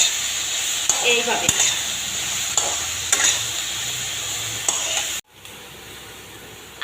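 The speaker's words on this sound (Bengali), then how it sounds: "সব তেলের মধ্যে ভেজে নেব" Vegetables frying in hot oil for a cauliflower curry give a steady, bright sizzle, with repeated stirring scrapes of a spatula in the pan and a brief spoken word near the start before the sound cuts off abruptly.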